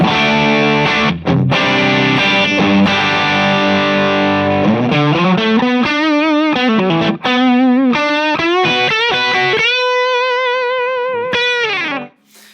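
An electric guitar with a gritty overdriven tone plays a melodic phrase with bends and sustained notes, loud and up close, ending abruptly.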